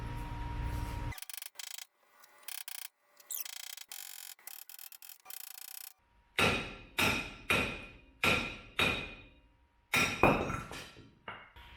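Sharp hammer blows strike the back of a bolt threaded into the front wheel bearing hub of a 2015 Ford F150 2WD, about eight loud metallic hits in a steady rhythm after some earlier scraping and handling noises.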